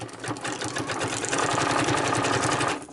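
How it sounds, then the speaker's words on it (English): A sewing machine stitches a strip of torn book paper into a ruffle, running loud and close with a rapid continuous mechanical rattle throughout. "I'm going to sew"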